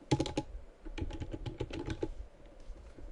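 Fingers tap briskly on a computer keyboard, giving a close, quiet run of clicks that stops for a moment partway through. The room is otherwise calm and no one speaks.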